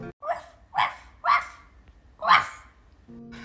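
A person imitates a puppy with four short yappy barks, evenly spaced and loud, close to the microphone, then a brief electronic tone at the end.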